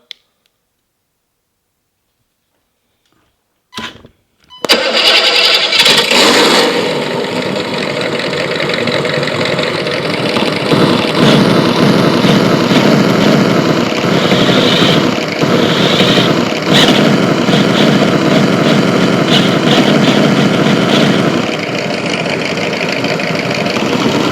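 After a few seconds of silence and a couple of clicks, a small RC car engine starts and runs loud and steady nearby, buzzing and rattling without letup.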